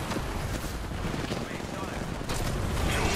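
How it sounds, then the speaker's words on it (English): Dense, continuous gunfire in the battle royale shooter Apex Legends, a steady rattle of rapid shots under a busy, noisy mix with faint voice. "Jack is shooting at me."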